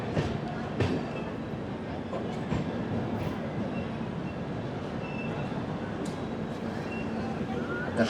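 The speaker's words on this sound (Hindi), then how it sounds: "श्री गंगानगर हुजूर साहिब नांदेड़ एक्सप्रेस अराइव कर रही है, और उसका डीजल लोकोमोटिव है।" A diesel-hauled Sri Ganganagar–Hazur Sahib Nanded Express rolls through a station with a steady, close rumble and occasional wheel clicks, amid a faint background murmur.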